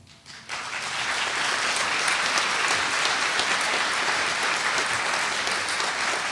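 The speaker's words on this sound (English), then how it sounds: "they all deserve a big round of applause" A college commencement crowd at Cogswell College bursts into applause that swells within half a second into a loud, steady, dense roar of clapping lasting several seconds.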